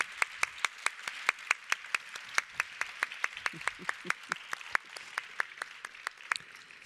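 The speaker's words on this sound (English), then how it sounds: "A warm applause now for the brilliant panel." Audience applause for a conference panel discussing economic perspectives on gender-based violence, with steady, evenly paced claps that are fairly close and sustained throughout.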